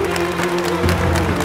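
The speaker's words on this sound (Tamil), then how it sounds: "ஒரு பெரிய கைத்தட்டலோட let's invite her on the stage" Audience applause at a women's awards ceremony on stage, a steady wash of clapping with a sustained musical tone underneath, swelling slightly near the end.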